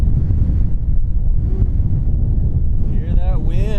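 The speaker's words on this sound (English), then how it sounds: "Oh, can you hear that wind?" Steady wind buffets the microphone in rough, rocky high country, a dense low rumble filling the whole stretch, with a voice briefly rising over it near the end.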